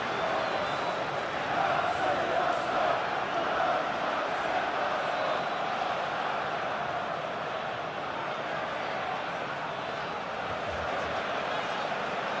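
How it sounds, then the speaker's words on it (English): Simulated football crowd in an Arsenal vs Chelsea Premier League video game match, a steady dense roar of chanting voices holding at constant loudness throughout. "The crowd are calling for this to be put to bed."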